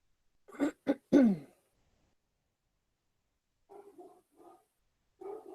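Two or three short, sharp barks from a dog close by, then a few softer, muffled yelps after a pause.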